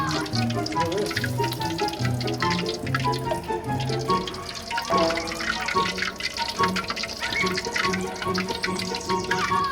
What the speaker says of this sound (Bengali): এই গরম তেলের মধ্যে চিকেন ফ্রাই করবো